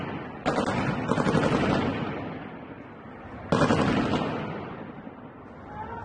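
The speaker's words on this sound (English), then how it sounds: "This is war level gunfire." Two loud bursts of rapid gunfire recorded in Iran, each a sharp onset followed by a rolling echoing tail that fades before the next volley, heard outdoors at some distance.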